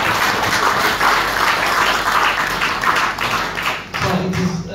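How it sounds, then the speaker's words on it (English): Audience at a university faculty meeting with the Vice Chancellor gives steady, dense applause that stays loud throughout, then thins near the end as a low voice-like sound comes in. "I think the Vice Chancellor deserves a better round of applause."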